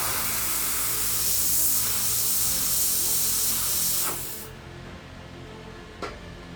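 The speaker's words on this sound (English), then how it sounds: "as the yellow is sprayed over top of the bluer colors" An airbrush sprays yellow paint over blue tones on a Jackson guitar, a steady close hiss that runs for about four seconds and then cuts off, with a short puff near the end.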